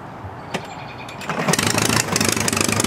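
A homemade four-cylinder Briggs generator engine cranks, then catches, with a few sharp clicks early on before a dense, rapid running rattle builds from about halfway and continues loud and close.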